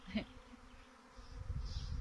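A honeybee swarm clustering outdoors, a steady buzzing drone of many bees with individual bees passing close to the microphone, growing a little louder toward the end.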